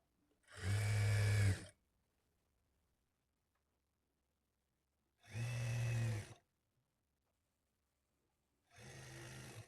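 A sewing machine stitches piping onto a blouse lining in three separate bursts of about a second each, a loud buzzing whir with silent pauses between runs.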